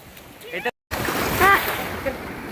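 Sea waves wash in at Harihareshwar Beach with a steady surf roar and wind buffeting the microphone, while a person talks excitedly over it close by.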